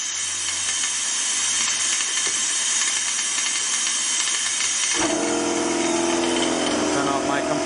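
An air compressor runs steadily during a vacuum leak test on a 1974 Chevy Nova AC system, giving a loud, continuous hissing mechanical drone whose tone shifts partway through, close by with no talking.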